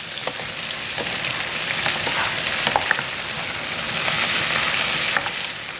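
Chopped onion frying in a pan while being stirred, a loud dense sizzle rising and falling with scattered light scrapes of the utensil, heard close with no talking.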